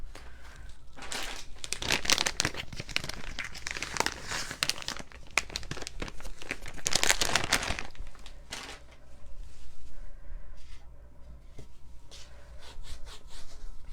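A craft media mat is wiped down by hand, producing continuous close rubbing and crinkling with brief louder bursts, steady throughout and with no talking.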